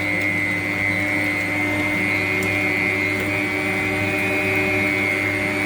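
An electric mixer beats butter for a cake, giving a steady, loud motor whir that holds an even drone from start to finish with no talk over it.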